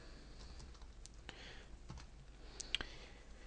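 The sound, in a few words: computer keyboard typing in code editor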